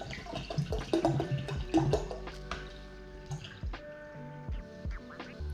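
Cold brew coffee drips through a filter in quiet, irregular drops, each a small ringing plink close by, with a soft watery wash behind them.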